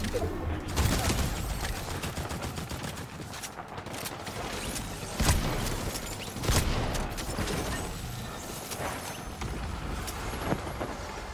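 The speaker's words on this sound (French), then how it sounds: "ça tire de ouf là-bas" Heavy gunfire in a video game, a battle-royale match, with bursts of sharp shots and loud cracks scattered across a continuous noisy background, some distant and some closer.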